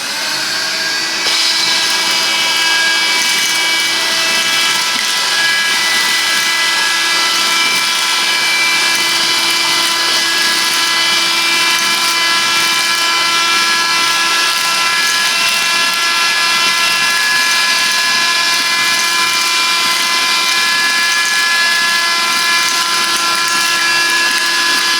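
A Silvercrest SAS 7.4 Li handheld vacuum cleaner runs continuously, a loud close whine with a steady high motor tone that starts abruptly and holds unchanged to the end.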